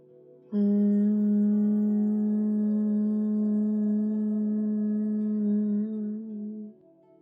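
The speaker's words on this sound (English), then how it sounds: "exhale out, making a humming sound like a bumblebee" A person hums a long, steady, buzzing exhale like a bumblebee during toddler-and-parent yoga breathing, lasting about six seconds and fading at the end.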